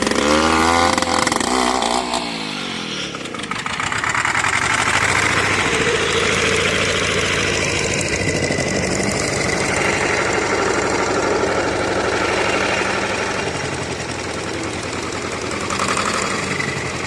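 A motor engine starts and settles into a loud, close, steady idle with a rough, knocking chug that holds for the rest of the run, with no talking.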